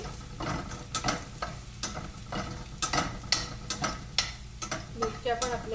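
Garlic fries in a pan over a medium gas flame with a soft background sizzle, broken by repeated scraping and clacking strokes of a stirring spoon.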